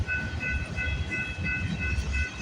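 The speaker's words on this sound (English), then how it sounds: "There's the end of CPKC 230. Off it goes to Montreal." The tail end of the CPKC 230 freight train rolls past on its way to Montreal, a continuous rumble of wagons with a faint metallic squeal. Nobody speaks.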